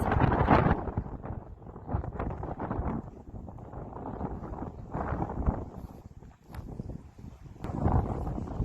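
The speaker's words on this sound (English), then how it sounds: "So it's pretty windy today." Strong wind gusts buffet the microphone in loud, uneven surges beside a greenhouse and low tunnels, with deep rumbling bursts that swell and ease over several seconds.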